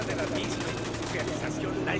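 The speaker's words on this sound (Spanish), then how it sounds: "te estoy disparando yo" Rapid gunfire in Ghost Recon Wildlands, a steady run of dense shots over about two seconds, loud and close, with someone talking over it.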